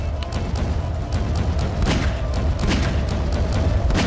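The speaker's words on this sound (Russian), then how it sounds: "там какие-то выстрелы мощнецкие идут" Heavy gunfire in the video game Garry's Mod: a series of sharp, booming shots at irregular intervals, some fairly close, over a steady game background.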